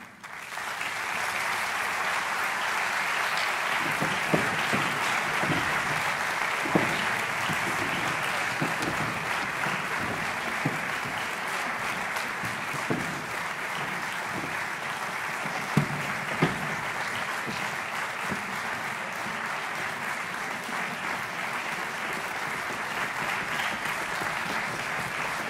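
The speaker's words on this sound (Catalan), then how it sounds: "El rebem amb aquest aplaudiment." Sustained applause from a concert audience at an international music festival in Cantonigròs, greeting a visiting choir from Trnava; steady dense clapping fills the whole stretch at an even level, with no voices over it.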